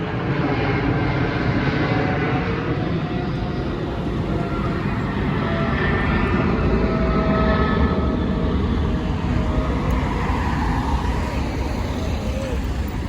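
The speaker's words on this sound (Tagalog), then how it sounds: "Daanan ng aeroplano kasi ito eh" An airplane passes overhead above a park, a steady, broad, loud engine rumble that holds for the whole stretch, while faint voices are heard underneath.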